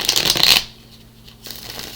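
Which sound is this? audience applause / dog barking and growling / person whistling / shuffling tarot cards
shuffling tarot cards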